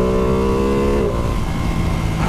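A Ducati Panigale V2 sport bike with 155 horsepower is ridden at wide open throttle on a wet road. Its engine gives a loud, steady, harmonic drone that drops in pitch about halfway through, with rushing wind noise throughout.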